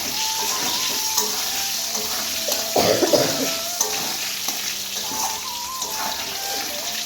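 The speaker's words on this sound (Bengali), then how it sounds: "এদিকে দেখো আলুটাও ভাজতে দিয়ে দিয়েছি।" Potatoes fry in hot oil with a steady, close sizzle that runs throughout, broken by a few louder crackles and stirring scrapes near the middle.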